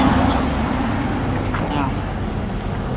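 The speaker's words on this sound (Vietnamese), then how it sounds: "Đây là cái động cơ máy phát điện nè, của Yanmar nè các bạn." A Yanmar generator engine runs nearby with a steady, continuous mechanical drone and rumble while someone talks over it.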